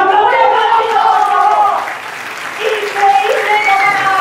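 A crowd breaks into applause, loud clapping that dips briefly before swelling again, with voices calling out over it.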